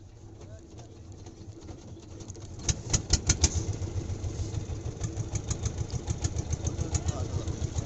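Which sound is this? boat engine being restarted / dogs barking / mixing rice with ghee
boat engine being restarted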